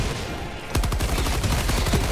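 Autocannon fire in the video game Helldivers 2: after a brief stretch of noise, a loud, rapid run of heavy repeated shots hammers on close by without pause.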